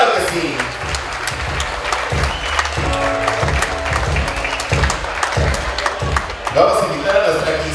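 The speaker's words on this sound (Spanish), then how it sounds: "vamos a dar un fuerte aplauso a nuestra princesa esta noche" Guests at a quinceañera celebration applaud the birthday girl, steady clapping mixed with loud background music and a voice over the sound system, all fairly close and full.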